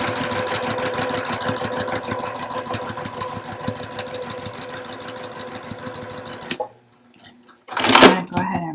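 A sewing machine stitches a zipper pouch with a 5/8 inch seam, running in a fast, steady mechanical rattle for several seconds, then stopping, followed by a short loud clatter.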